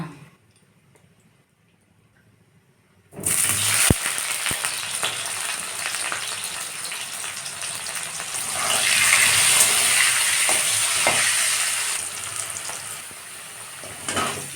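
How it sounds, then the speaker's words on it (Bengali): Potato pieces drop into hot oil after a near-silent pause and break into a loud, continuous close sizzle that swells midway and then eases slightly, with a few sharp clicks of stirring. "এবার আমি আলুটাকে ভেজে নিব"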